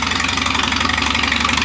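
A vintage Case 930 tractor engine idles steadily and low with a regular knocking pulse, close by and continuous, with no voices.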